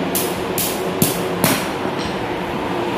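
Hammer pounding during a painting job where phenolic boards are being refinished, heard as a few sharp knocks, the loudest two near the middle, over steady background noise with no talk.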